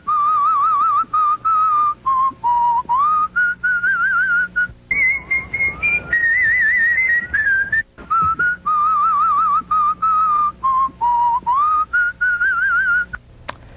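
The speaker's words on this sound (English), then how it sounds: "This poor woman can only communicate with family and friends through whistling." A woman whistles a long, loud, melodic run of rising and falling pitched phrases, close and clear with short breaks and no speech.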